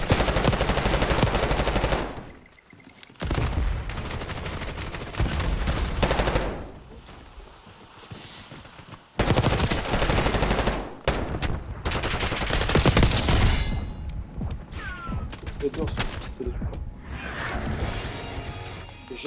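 Loud, rapid gunfire in Black Ops 6, coming in several long bursts separated by short quiet gaps, sharp and close, with shell and impact clatter trailing between volleys.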